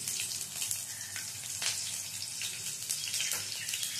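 Nigella seeds and two green chillies tempering in hot oil for a fish curry with mustard paste, giving a steady, close crackling sizzle with scattered pops and spits throughout, no voices.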